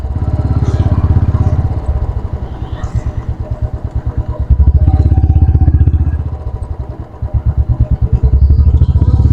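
A Royal Enfield Classic 350 motorcycle thumps along on an Ahmedabad street, its loud single-cylinder exhaust beat rising and falling as the rider speeds up and eases off.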